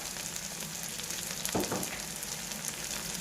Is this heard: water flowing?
no